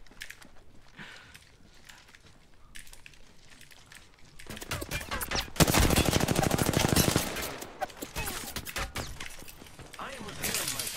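Automatic gunfire in a shooter game, a few scattered shots early, then a dense, loud burst of rapid fire in the middle, tapering into intermittent shots, with a voice talking over parts of it.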